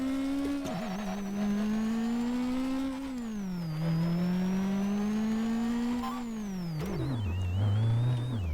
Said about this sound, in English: So yeah, the engine sound disappears